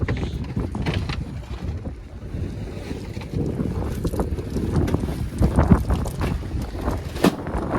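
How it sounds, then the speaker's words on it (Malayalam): Strong wind blowing across a fishing boat at sea off Kanyakumari, loud gusting roar buffeting the microphone with water sloshing and occasional knocks, no talking. "ഈ കാറ്റ് ഇന്നലെ വന്നപ്പോൾ തൊട്ടുണ്ട് നല്ല കാറ്റാണ് കേട്ടോ"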